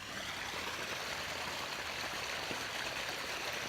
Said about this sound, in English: Kind of made a waterfall.